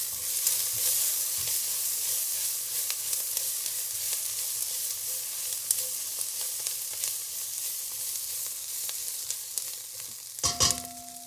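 Onions frying in a pan for a vegan butternut squash dish give a steady, close sizzle throughout, with a few scraping stirs and a brief clatter near the end.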